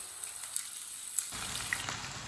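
Chips sizzle in hot oil over a lowered flame for a Bakra Eid recipe: a steady, close crackling hiss with small pops, growing slightly fuller partway through, with no talking.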